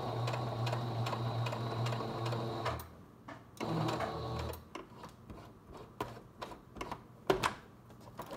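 A sewing machine stitching the seam of a fabric face mask, running in steady close bursts that stop briefly while the fabric is turned at the center seam, followed by a few lighter clicks and taps, with no talking.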